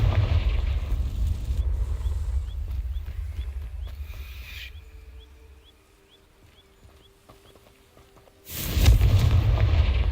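Confringo, a fire spell in Hogwarts Legacy, sets dry vines alight. A deep, rumbling blast opens, fades into quiet with soft ticking, and a second loud boom bursts in near the end.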